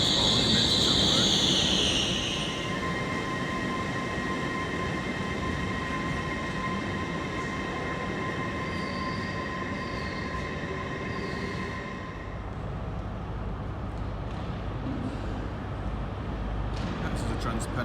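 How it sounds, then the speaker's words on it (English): A TransPennine Express service drawing into a station on its way to Newcastle, a steady loud rumble of wheels on rail with a long high squealing tone early on, fading slightly as the train slows, with outdoor background noise throughout. "This is a Transpennine service approaching for Newcastle."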